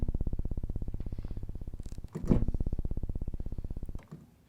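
An extremely low C on a Mai Tai synthesizer bass, so low it becomes a rapid rhythmic pulsing of individual waveform peaks rather than a pitch, sounding alone and retriggered once midway.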